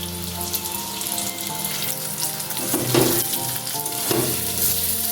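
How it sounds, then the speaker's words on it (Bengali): Hog plum (amra) frying in a pan for a spicy-sweet chutney, a steady close sizzle that runs throughout with a couple of louder stirring scrapes and bursts partway through; no one speaks. "আমড়াটা কিছুক্ষণ ভেজে নিচ্ছি"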